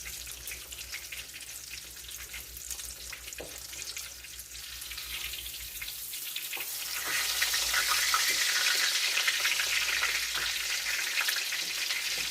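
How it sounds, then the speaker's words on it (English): Chicken cutlets for chicken parmesan sizzle steadily in a pan, a continuous crackling hiss that grows louder and denser partway through, close by with no talking. "So here, I'm frying up my chicken."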